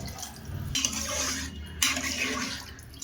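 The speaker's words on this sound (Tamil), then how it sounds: "இப்போ தண்ணி ஊற்றிக்கலாம்." Water pours and splashes into a pressure cooker pot in two surges while making prawn biryani, a bright rushing gush with faint clinks of cookware, close by.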